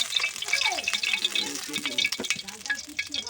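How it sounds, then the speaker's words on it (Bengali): Close, crisp sizzling and crackling of fish frying in oil, with occasional stirring clinks and a brief voice in the background. "মাছ ভাজা হয়ে গেছে মরমরিয়ে ভেজে নিচ্ছি"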